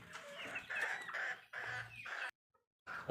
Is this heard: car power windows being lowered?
no